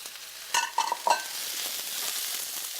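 Zucchini, onion and red pepper frying in a pan get stirred with a few quick scraping strokes over a steady soft sizzle, close up and without speech.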